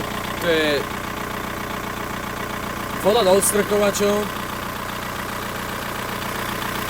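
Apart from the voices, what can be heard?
Škoda 1.9 SDI diesel engine idling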